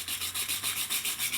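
A rag or pad rubs rust off the track rod of a Classic Mini steering rack in quick, steady back-and-forth strokes, a close, loud and continuous scrubbing rasp with no voices.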